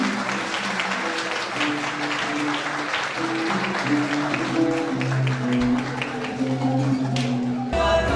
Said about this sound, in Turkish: Alkışları güçlü alabilir miyiz lütfen?